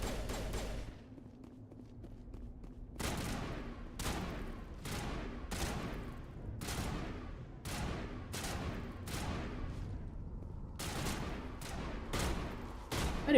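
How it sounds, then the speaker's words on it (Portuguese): Enemy gunfire in Mass Effect: Legendary Edition, a series of sharp, loud shots spaced a second or so apart after a brief quieter start, each with a short ringing tail. "o cara tá atirando em mim pelo buraquinho ali?"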